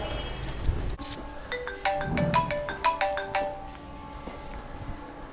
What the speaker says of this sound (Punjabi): ਫੋਨ ਵੇਖ ਕਿਹਦਾ ਆਉਣ ਡਿਆ